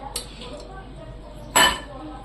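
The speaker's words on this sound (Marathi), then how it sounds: "आता आपण एक पातेलं ठेवून घेतलंय" A metal cooking pot is set down and handled while village-style chicken masala is prepared, giving two sharp metallic clinks, the second louder and closer, over a quiet kitchen background.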